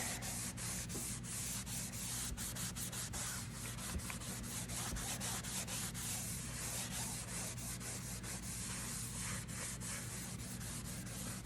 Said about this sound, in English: I'm just gonna wipe a bit of the color off of this plywood